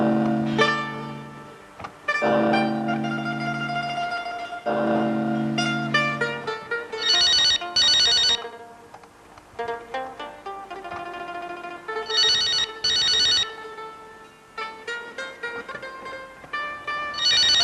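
A ringtone melody plays loudly and close, its repeating tuneful phrases separated by short gaps and bright high chimes, with no voices over it.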